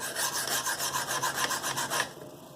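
A CPM S110V steel knife blade is drawn across a sharpening stone in quick, even rasping strokes, about a dozen in a steady rhythm, close and fairly quiet, then stopping.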